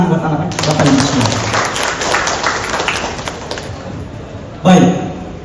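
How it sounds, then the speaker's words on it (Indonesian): An audience at a BRI bank prize draw event in Palembang claps in a brisk burst of applause that fades, then a sharp loud knock sounds near the end. "Tepuk tangan buat anak Bapak Ibu semua."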